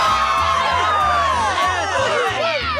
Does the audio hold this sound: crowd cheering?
yes